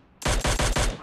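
A Mini14 rifle fires on automatic in PUBG Mobile Lite, loud and close, in three rapid bursts with brief gaps between them.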